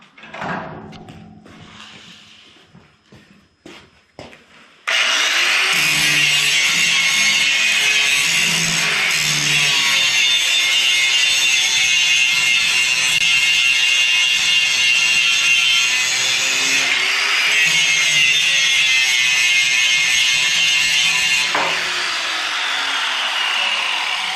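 Arc welding on a broken snow plow blade in an awkward position: a loud, steady crackling buzz runs continuously for most of the stretch, preceded by a few seconds of clunking handling noises, with no talking.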